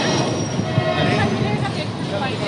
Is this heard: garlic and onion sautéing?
no